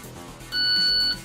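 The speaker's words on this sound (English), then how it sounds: "The meme sound. The beep beep beep beeps." A short electronic beeping alert used as a meme sound, a single steady high tone held for about half a second over a quiet room background.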